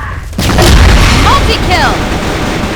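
A grenade explodes in the shooter game CrossFire: a loud, heavy boom with a rumbling tail, and a voice calls out over it.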